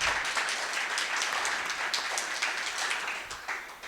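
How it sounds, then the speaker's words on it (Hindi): Crowd applause at a Hindi poetry gathering in Indirapuram, Ghaziabad: continuous, fairly faint clapping from many hands, steady throughout with no voices over it. "जोरदार तालियों से आपका आशीर्वाद मिल जाए"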